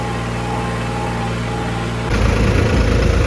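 A tractor engine idles steadily with a low, continuous rumble during a paddy harvest, then revs up slightly and grows rougher near the end.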